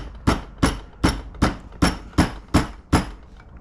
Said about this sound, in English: you can hit the collar with the lead hammer or rubber hammer